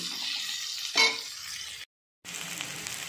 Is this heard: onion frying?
yes